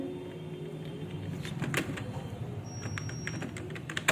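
Computer keyboard keys clatter in quick irregular bursts, close and clear, with short pauses between runs of typing and no voices.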